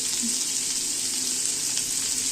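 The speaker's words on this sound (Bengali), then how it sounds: "হালকা জিরে দিয়ে ছোলা ভাজছি" Steady hiss of chickpeas frying in hot oil with cumin, a constant close sizzle without pauses or speech.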